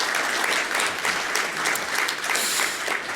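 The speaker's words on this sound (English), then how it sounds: "Let's have another massive round of applause for Dave Stubberfield" Audience applauding Dave Stubberfield at the close of a live business session, a dense, steady wash of many hands clapping throughout, fairly close and sustained without a break.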